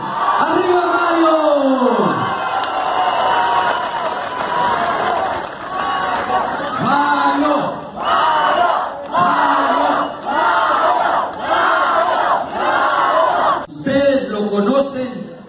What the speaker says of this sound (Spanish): Un fuerte aplauso para Mario Rincón